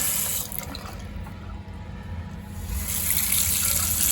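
Hot water runs steadily from a repaired tap in a continuous rushing hiss that swells slightly louder toward the end, with no voices.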